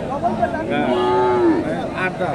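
A dairy cow at the Hasokhali cattle market in Bogura gives a long, drawn-out moo close by, rising and falling against a busy background of livestock and crowd murmur.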